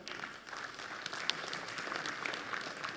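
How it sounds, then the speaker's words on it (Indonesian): Applause fills a hall at a regional medical association assembly, a dense, steady patter of many hands clapping for a few seconds, moderately loud with no talk over it. "Tepuk tangan untuk kita semua"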